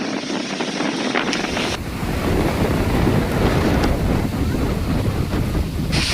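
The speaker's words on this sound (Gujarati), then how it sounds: "એવો ખતરનાક વાયરો આવી ગયો છે મોટી વાવળ આવી રહી છે" Strong wind roars constantly, buffeting the microphone with loud, rumbling gusts that hardly let up.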